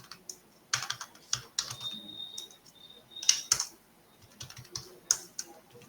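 JavaScript code being typed on a computer keyboard, sparse clusters of clicky keystrokes with gaps in between, heard close and alone.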